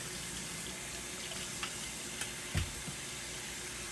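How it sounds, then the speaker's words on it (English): Cold water runs steadily from a kitchen tap while butter is kneaded by hand, a soft continuous hiss with a few faint splashes and knocks, no voices. "you want your water to be as cold as you can get it out of tap"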